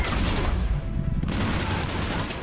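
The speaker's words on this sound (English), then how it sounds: "Grenade." A grenade blast in the video game Mass Effect 3, a loud broadband burst with rumbling debris and gunfire-like crackle filling the short moment.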